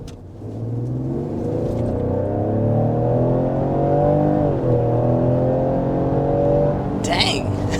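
2023 Ford Explorer ST SUV with 400 hp accelerating hard, engine note climbing smoothly through rising pitch with a brief dip at a gear change before pulling again, loud and close.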